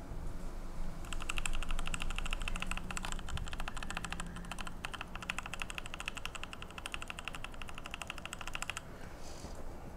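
Fast, steady clicking of keys on a Motospeed CK101 mechanical keyboard, crisp and close, keeps a busy rhythm for several seconds before stopping near the end.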